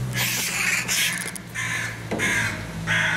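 A young carrion crow (Corvus corone), set upon by cats, gives several loud, harsh caws in quick succession, close by and with no talking.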